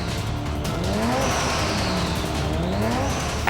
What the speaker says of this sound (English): And here we have Rob's supercharged nitrous BMW